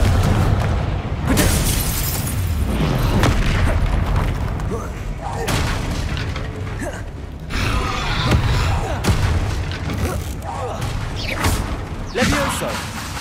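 A Confringo fire spell blasting in the video game Hogwarts Legacy, with loud repeated booming explosions and impacts over a steady game score, bursting every couple of seconds through the whole stretch.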